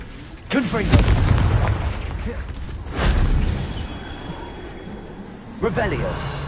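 Blasting spell explosions in the video game Hogwarts Legacy, three heavy booming blasts spaced a couple of seconds apart, each with a rumbling tail, loud and close, with speech present over the effects.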